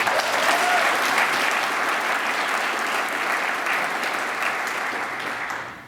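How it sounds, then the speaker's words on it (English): Audience applause at a fire summit meeting, a sustained, fairly loud wash of many hands clapping that holds steady for several seconds before tapering off at the end. "If you give him a round of applause, I'd appreciate it"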